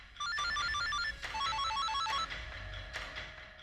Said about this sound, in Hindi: मैं पलाश सर को फोन करके बताता हूँ।